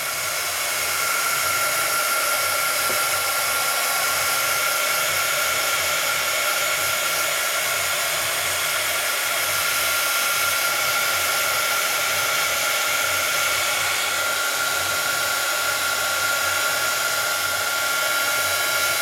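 Heat tool blasting hot air to dry gel paint on a mixed-media handheld mirror background, a loud, continuous whooshing drone held steady throughout.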